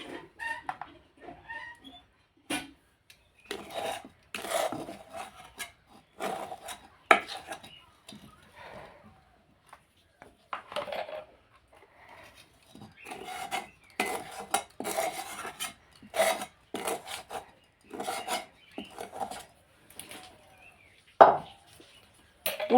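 A spoon scrapes and taps as a carrot sweet mixture goes into a tiffin box, giving irregular sharp clicks and knocks spread across the clip with quiet gaps between them.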